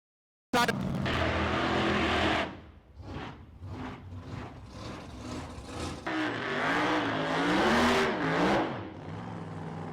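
A drag racing car does a tyre burnout, its engine bursting in loudly, then revving in repeated pulses before building again into a sustained roar of spinning tyres, close and powerful.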